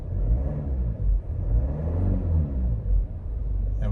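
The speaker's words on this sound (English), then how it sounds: "I'll just give it a quick rev" A 2017 Ford Kuga ST-Line X with a 2.0 TDCI 180PS diesel engine is given a quick rev from idle, its deep low rumble swelling and dipping in a couple of surges, loud and close with no talking.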